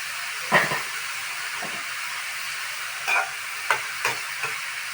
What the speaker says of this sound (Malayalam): നല്ലതുപോലെ ഒന്ന് ആവി കയറും